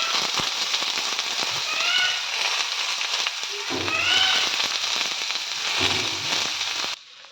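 Onions sizzle as they sauté in a pan for a paneer dish, giving a loud, continuous crackling hiss with a few clanks of a utensil stirring them.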